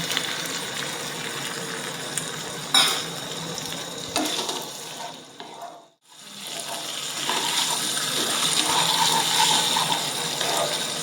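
Cornflour mixed in cold water is poured into paneer frying in a pan, producing a steady, close sizzle and hiss with stirring scrapes, briefly dropping away near the middle before the sizzling swells back up.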